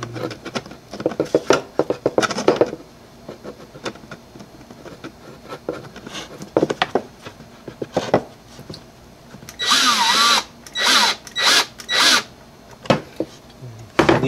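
Cordless drill with a clutch setting driving screws into a wooden pipe rack, bursts of close whirring with clicking and knocking handling noises, and several longer drive runs toward the end.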